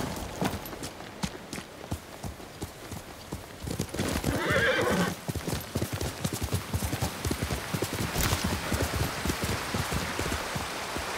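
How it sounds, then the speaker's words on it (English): In the video game Ghost of Tsushima, horse hooves clip-clop rapidly and steadily over rain, with a loud whinny rising in the middle; several horses sound close. "Horses."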